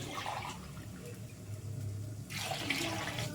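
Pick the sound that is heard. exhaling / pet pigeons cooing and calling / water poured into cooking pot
water poured into cooking pot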